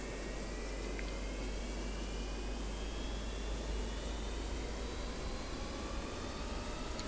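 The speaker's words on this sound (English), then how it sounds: "And we've got a good start on engine 1." Simulated Avro Vulcan B.2 jet engine spooling up on start in Microsoft Flight Simulator, a faint steady whine with rising tones over a low rumble, continuous and alone.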